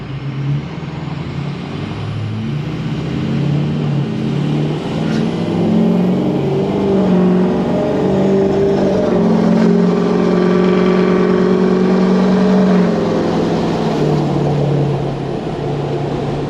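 A Ford 6.0 Powerstroke diesel engine runs just after an oil change, a loud close steady rumble with gentle rises in revs throughout.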